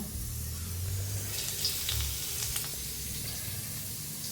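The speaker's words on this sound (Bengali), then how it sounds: "তেলে দেখো কালো জিরা ফোড়ন দিয়েছি, দিয়ে পেঁয়াজ কুচিগুলো আবার দিয়ে দেবো" Chopped onions hit hot oil tempered with nigella seeds, giving a steady, moderately soft sizzle with a few brighter crackles, no voices.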